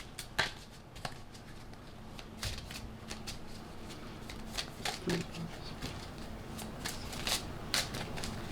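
Playing cards being shuffled and snapped in a series of quick crisp riffles and flicks, close and fairly quiet, with scattered clicks spread across several seconds.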